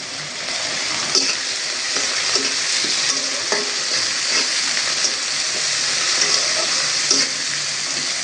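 Steady frying sizzle of shrimp, onion and garlic with scraping stirring sounds, a continuous hiss with small clinks and pops throughout, close and fairly loud.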